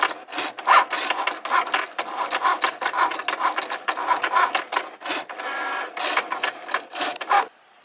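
Cricut cutting machine working a design on a mat, with a close, busy whirring and rapid clicking as the carriage moves back and forth in uneven bursts, stopping abruptly at the end.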